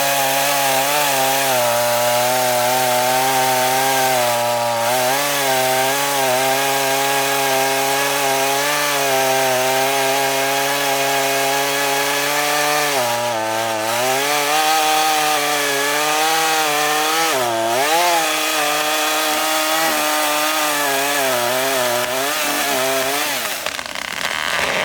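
Stihl chainsaw, a 1.9 horsepower model from the MS162, MS172 and MS182 range, cutting through wood, its engine holding a loud steady whine with slight dips in pitch under load, close by and continuous without talk.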